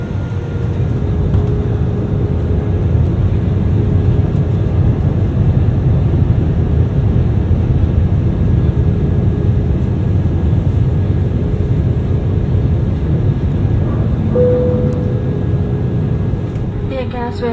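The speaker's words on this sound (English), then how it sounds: "We have just landed at Penang International Airport." Steady, loud cabin roar inside an AirAsia Airbus A320-200 just after landing at Penang, with broadband engine and airflow rumble throughout and a brief tonal chime near the end.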